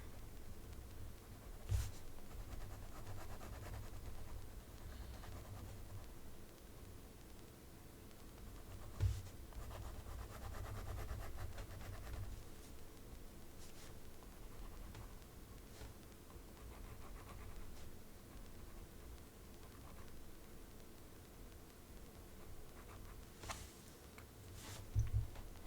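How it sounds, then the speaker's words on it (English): A pen draws lines across paper, making a soft, steady scratching that runs on for a long stretch, with a few light taps and knocks scattered through and no talking. "use this pen to make the lines along the bottom of the drawing darker"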